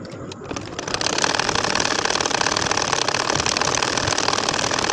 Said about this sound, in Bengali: আমাদের কিন্তু ঢেউ ঢেউয়ের মতো করে সেলাই করে যেতে হবে।